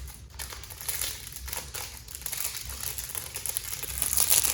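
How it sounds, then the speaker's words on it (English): A crinkly plastic bag wrapped around a Kilk Orient 2022 Special Edition orange resin fountain pen rustles close by, a steady crackling crinkle that swells slightly louder toward the end, with no talking. "it has a very crinkly plastic body bag on it"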